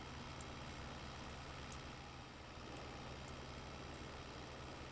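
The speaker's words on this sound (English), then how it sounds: "Can we all just agree that the Lindini it sounds so smooth in the engine?" Landini tractor engine idling in the Farming Simulator 22 video game, a smooth, steady low rumble that holds constant throughout, faint and alone without speech.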